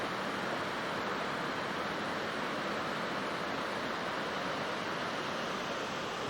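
A steady, dense roar of a waterfall in a winter backcountry creek, loud and unbroken throughout with no voices.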